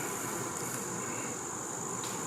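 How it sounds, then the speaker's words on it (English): Honeybees in a hive give off a steady, dense insect drone, a continuous even hum with no voices over it. "there's a lot of bees in the hive"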